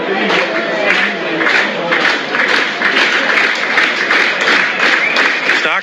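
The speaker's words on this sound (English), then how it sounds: "Stark running in again to the claps as he comes wide on the crease" Cricket crowd at an Australia v Bangladesh Test match clapping rhythmically as fast bowler Starc runs in, a sustained, fairly loud patter of many hands with a pulsing beat, while a commentator talks over it.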